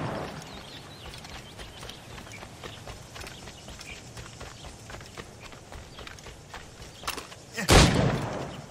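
A single loud, sharp gunshot from a gun in the video game Assassin's Creed Rogue cracks out near the end, after a stretch of low ambient background with faint footsteps.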